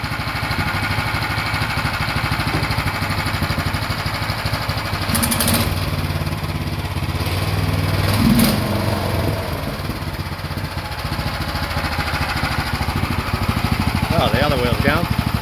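A golf cart's engine runs steadily at a loud, constant drone while being put in gear, with a brief clunk partway through and voices talking over it near the end.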